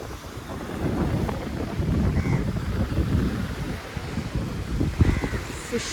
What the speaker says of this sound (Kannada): ಅಲೆಗಳು ನೋಡಿ ಹೆಂಗಿದೆ.